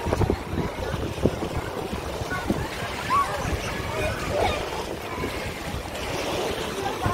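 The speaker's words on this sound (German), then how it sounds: "Mit Wellenbad." Wave pool at a campsite pool complex, a steady wash of churning water and surf-like noise filling the whole stretch, with people talking faintly in the background.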